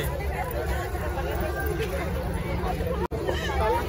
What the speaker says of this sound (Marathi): गर्दी झाली आता.